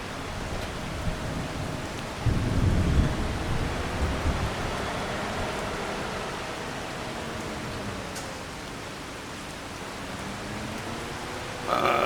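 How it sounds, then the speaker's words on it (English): Steady rain falls on a farm, a dense, even hiss that holds for the whole stretch, with a brief louder swell partway through and no voices. "It's still raining."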